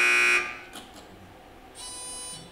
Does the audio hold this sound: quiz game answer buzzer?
yes